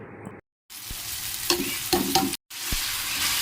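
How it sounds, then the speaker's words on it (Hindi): Finely chopped onions fry and sizzle in a pan while being stirred, a steady close hiss broken by a few brief clinks and short gaps. "मैं इसमें ऐड करूँगी सारे ऑनियन बारीक कटे हुए, और इसे अच्छी तरह से मैं भून लूँगी"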